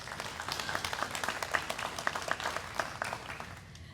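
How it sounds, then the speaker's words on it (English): Scattered applause from a crowd at a highway construction training program graduation, steady, moderately loud clapping with a few sharper individual claps standing out. "Please give them a round of applause"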